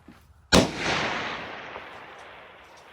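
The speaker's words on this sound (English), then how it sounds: "So this is going to be our 3 shots at 220 yards, 77 grain open tip match with the Mossberg bolt action." A Mossberg bolt-action rifle firing 77-grain open-tip match ammunition at a 220-yard target lets off a single sharp, loud shot outdoors, followed by a long, fading rumble of echo.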